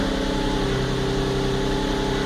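Close up, a 2003 Infiniti G35 sedan engine settles into idle with a steady, even low hum and faint mechanical whir, continuous and unchanging throughout.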